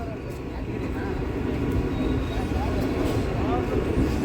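A MEMU passenger train pulls into the platform at Yelahanka Junction, a low continuous rumble of wheels and carriages that grows slightly louder, with faint squeals over the steady roar.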